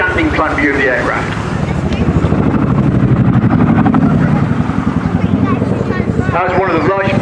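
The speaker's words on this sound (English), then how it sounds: "giving the chance to really hear the fabulous sound of the Chinook blade slap" Loud, steady low thumping of Chinook helicopter rotor blade slap at an airshow, a rapid pulsing chop that stays strong throughout with wind rush mixed in.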